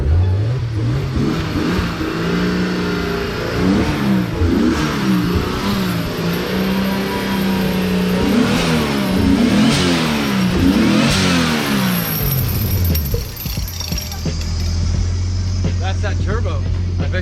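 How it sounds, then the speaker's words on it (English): A Nissan RB25 engine with a cheap turbo and a suspected bad seal revs repeatedly, rising and falling in pitch, then settles to a low idle, with people talking nearby. "That's that turbo. I bet you I hate that turbo."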